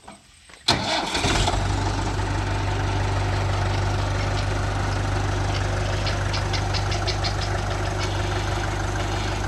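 A Mahindra 575 DI tractor engine cranks and catches with a sudden burst, then settles into a steady, close, throbbing idle that continues alone.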